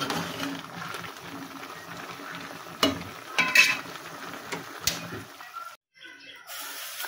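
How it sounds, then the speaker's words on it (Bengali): Mixed vegetables cook in oil in a wok (kadai) for a vegetarian dish, giving a soft, uneven sizzle with a few sharp stirring scrapes and clatters before a brief drop to near silence. "আমি সবজিটা রান্না করছি নিরামিষভাবে। কড়াইতে তেল দিয়ে দিলাম"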